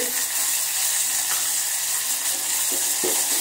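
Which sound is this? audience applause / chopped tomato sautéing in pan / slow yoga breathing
chopped tomato sautéing in pan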